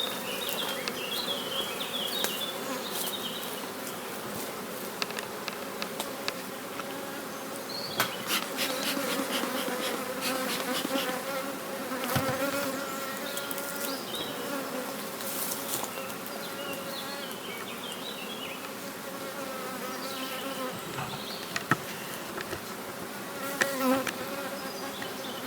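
Honey bees buzzing around beehives on an acacia site during an inspection, a dense continuous hum of many insects close by with occasional brief taps and rustles.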